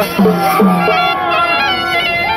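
A crowd packs around a public dance to a traditional instrument on World Tribal Day. Their loud, close hubbub of voices and shouts blends with tonal, music-like sounds.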